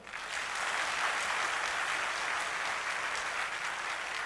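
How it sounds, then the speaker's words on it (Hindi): Dense, steady applause from a large forum audience, continuous and even throughout with no voices over it. "तो ताली तो बजाओ"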